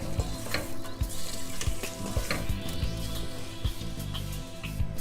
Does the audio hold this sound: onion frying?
yes